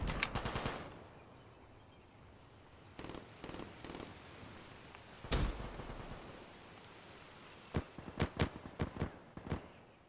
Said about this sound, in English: The Garand sounded like it was over here.